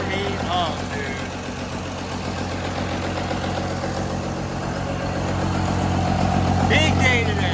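A 750HP Cummins diesel swapped into a Chevy truck idles on its first startup, a steady low rumbling drone that is loud and close and swells slightly toward the end, with voices now and then over it.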